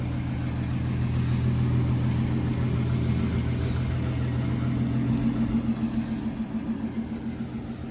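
A red 1966 convertible Ford Mustang drives a lap, its engine giving a steady close mid-pitched rumble that eases and wavers slightly toward the end.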